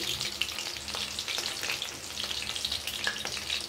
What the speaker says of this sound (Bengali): আর এবার মা গরম গরম ভাজছে